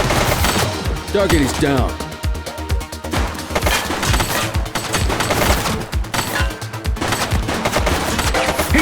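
Rapid bursts of automatic gunfire in the police video game The Precinct, dense, loud and continuous, cracking hard through the whole stretch, with a brief spoken line partly buried under the shots.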